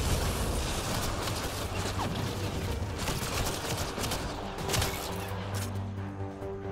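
Sustained gunfire in the Mass Effect Andromeda video game, a steady rattle of rapid shots with a few heavier bursts, continuous and fairly loud throughout.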